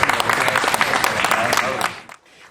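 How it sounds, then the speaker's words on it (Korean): Applause from a waiting group greets returning detainees entering an airport arrival hall, steady clapping at close range for about two seconds, then dropping off sharply near the end. "미리 기다리던 강훈식 비서실장 일행은 안도의 박수로 맞이했습니다"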